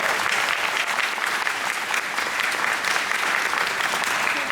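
An audience at the Eurofurence 28 convention opening ceremony applauds a new department, a dense, continuous roar of clapping that holds at full strength throughout.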